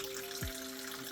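Clean water running out of a Fernox TF1 filter during cleaning, a brief steady rush with a low hum beneath.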